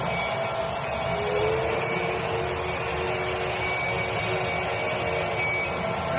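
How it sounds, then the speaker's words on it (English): A train at Minute Maid Park, the Astros' stadium, runs during a 2019 World Series game, a steady rumbling hum with faint tonal whine blended into the broad wash of the ballpark crowd. "And from my man Bob in the train, he's hoping that's not the last time he gets to operate it"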